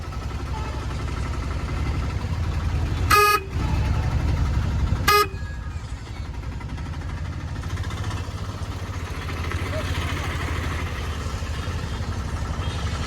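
Two short, sharp auto-rickshaw horn honks cut through a steady rumble of road traffic and engines near Dibrugarh railway station, with more vehicle noise continuing afterward.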